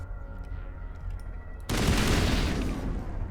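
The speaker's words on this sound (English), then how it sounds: "let's switch to the machine gun. I'm sorry, the AR" Assault rifle fire from Mass Effect 1 bursts in loudly and continuously halfway through, cutting across a low, droning ambient background with no talking.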